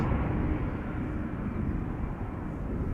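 Lufthansa CRJ900 regional jet at Schiphol Airport, its engines a steady broadband roar close by, loud and even for the whole stretch with no voices.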